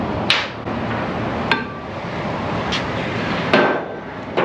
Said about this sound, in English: We got an Icon dead blow, can handle it perfect.